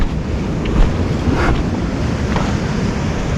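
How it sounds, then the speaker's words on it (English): Sea swell and surf wash steadily along a deep-water stretch of the Irish coast, a continuous close roar of breaking water mixed with gusty wind buffeting the microphone, with no voices. "There's some nice swell running."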